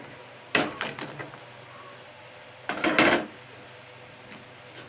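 Fried palm fritters are stirred in sugar syrup in a pan, with two short bursts of scraping and clattering against the pan over a quiet background.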